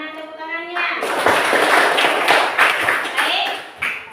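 A classroom group of schoolchildren claps hands together for several seconds, a dense steady burst of clapping that starts after a brief voice and stays fairly loud, with some children's voices mixed in.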